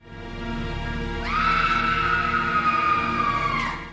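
A person screams in a horror film, one long, high, sustained shriek that rises sharply after a low rumbling start, holds loud and steady, then breaks off near the end.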